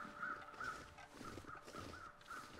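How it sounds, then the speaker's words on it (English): A murder of crows caws in The Long Dark, repeated rasping calls in a steady rhythm, faint and distant over wind-like ambience. "There goes the murder of crows."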